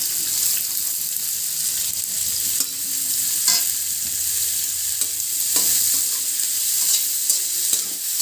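Chopped rattan cane (calamus rotang) sizzling as it is fried and stirred in a pan, a continuous crackle broken by repeated scraping strokes of the spoon, close and steady.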